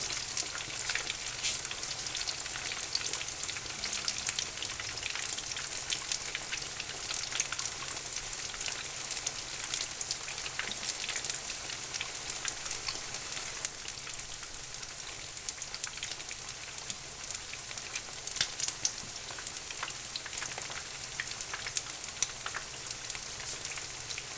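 Fish pieces fry in oil for a po'boy, a continuous crackling sizzle full of dense tiny pops, steady and moderately close with no talking.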